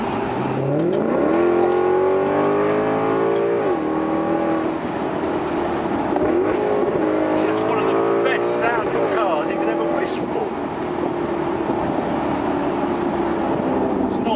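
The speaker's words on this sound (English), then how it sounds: "There's a great sounding engine, but I just love the way it's valved." A 2012 Maserati GranCabrio Sport engine with a valved exhaust revs hard, its pitch climbing through several gear changes in a loud continuous roar, then settling to a steady drone while someone talks over it.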